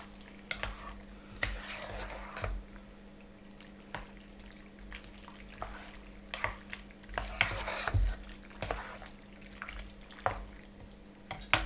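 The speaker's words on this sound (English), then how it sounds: "Okay, so this is going to be mixing around all the penne" Penne pasta being stirred through tomato sauce in a pot, wet squelching and sloshing with repeated clinks of a utensil against the pan, in irregular bursts throughout.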